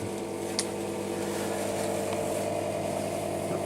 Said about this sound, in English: the noise you can hear is an extractor fan